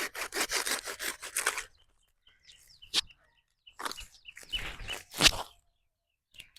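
A knife saws through a cabbage stem during a garden harvest, with a quick run of close rhythmic rasping strokes followed by a pause and then a few rougher cutting scrapes, while birds chirp faintly in the background.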